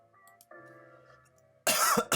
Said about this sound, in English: Sorry, I'm coughing.